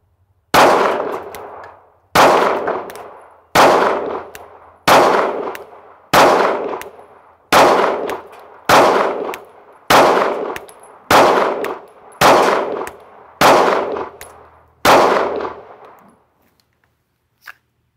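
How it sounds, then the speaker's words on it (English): Twelve sharp, loud pistol shots from a Sig Sauer P365 firing Remington UMC ammunition, spaced evenly about 1.3 seconds apart, each with a short ringing decay, outdoors with no talking. "This is gonna be the first set of 3 mags. So it's gonna be 32 rounds of Remington UMC."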